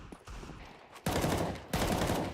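Two sharp pistol shots crack out close together in a competitive shooter match, each followed by a brief ringing tail, after a quieter start with faint game noise.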